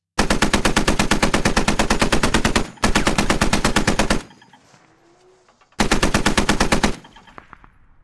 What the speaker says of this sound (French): Vas-y, fais claquer un peu la 12-7, Medinar.